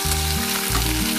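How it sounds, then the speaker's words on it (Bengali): Onions and potatoes fry in a pan until browning, giving a loud, continuous close-up sizzle with a low steady hum and shifting tones running beneath it, with no voices. "এটাকে এবারে একটু লাল লাল করে ভেজে নেব।"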